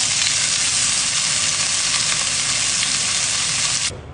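Fish sizzling steadily in a pan while being shallow-fried for a Kerala-style fish pollichathu, a loud, continuous crackle that holds without a break and then drops away abruptly just before the end.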